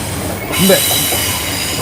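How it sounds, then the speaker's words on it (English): A freight train carrying cargo containers rolls past in the UK, a steady loud rumble of wagons and wheels with a rising surge partway through and no talk. "So this train coming in now, these are cargo containers coming into the UK from abroad"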